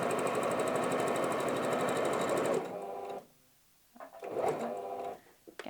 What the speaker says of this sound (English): just use the edge of the foot as a guide just to keep your stitching straight